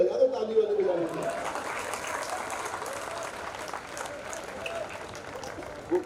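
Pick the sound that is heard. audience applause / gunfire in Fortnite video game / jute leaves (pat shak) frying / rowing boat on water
audience applause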